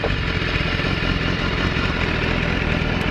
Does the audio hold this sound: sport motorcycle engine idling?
yes